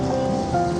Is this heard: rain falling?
yes